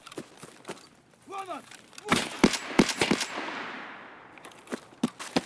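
A Saiga 12 shotgun fires slugs in Escape From Tarkov, letting off several sharp, loud reports in an irregular burst with a brief echoing tail. A few fainter shots and thuds follow.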